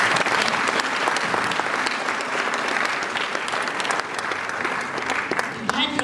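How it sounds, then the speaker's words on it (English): Audience applause at a national student economics debate, a sustained, dense round of clapping from a large crowd, steady and fairly loud throughout. "I think they deserve a better clap, Jamani."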